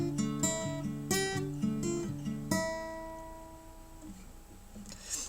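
Clean electric guitar finger-picking an intro, a few picked arpeggiated notes ringing out in a steady pattern and then left to sustain and fade, played alone without any voice.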